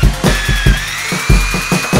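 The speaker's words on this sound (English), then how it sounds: "drill the holes through rivets" A power drill bores through rivets on a metal changing-room locker, the motor whining steadily while the bit catches in loud, rhythmic bursts about four times a second, close and alone.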